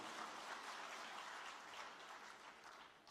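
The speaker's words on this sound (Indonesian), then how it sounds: "Aplaus dulu dong untuk Cak Yahya ini" Audience applause at a Golkar party gathering, a steady broad wash of clapping held at an even level for about three seconds before easing off slightly at the end.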